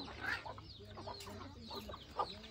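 Free-range desi country chickens clucking softly on a poultry farm, a busy, low-level mix with scattered short calls and a slightly louder cluck near the end.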